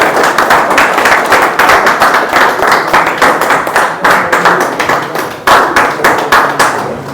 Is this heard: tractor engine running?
no